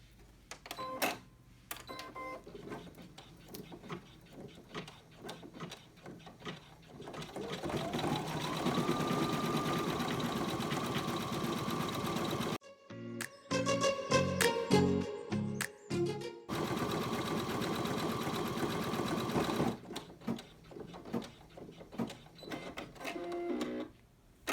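An embroidery machine stitches a softball bag in the hoop with a steady mechanical whir and rapid needle clatter that briefly shifts to a choppier rhythm midway before resuming.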